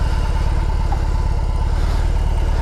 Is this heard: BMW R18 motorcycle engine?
yes